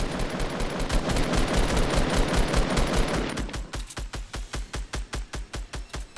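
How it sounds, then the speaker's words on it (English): Automatic gunfire rattles in a video game firefight, first a thick overlapping barrage, then a clean run of evenly spaced rapid shots, loud and close. "We're getting shot!"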